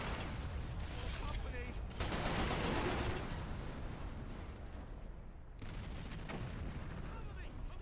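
Gunfire and a grenade blast in the video game Resistance: Fall of Man, dense rumbling explosions and rapid shots filling the whole stretch, loud and continuous with short lulls.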